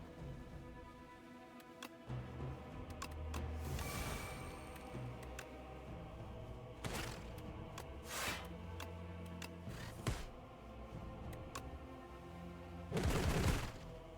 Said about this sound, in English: Black Cannon hit 10 times.